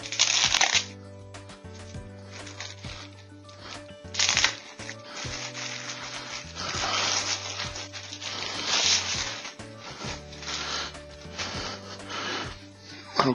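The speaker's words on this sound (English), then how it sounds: "Let's take this plastic off here so we can have a closer look at it" Plastic wrapping is peeled and crinkled off a Tripp Lite Smart500RT1U rack UPS in bursts of close, loud rustling and crackling. A faint steady hum and light handling noises sit between the bursts.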